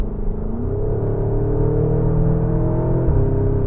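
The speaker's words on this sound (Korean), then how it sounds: "가변 배기도 열리면서 배기음이 본격적으로 들려오기 시작합니다" A deep, loud engine roar from a Porsche Cayenne Turbo GT (673 hp) with variable exhaust open holds steady and builds slightly, with a rich low drone and rising tone as it accelerates hard, no talk.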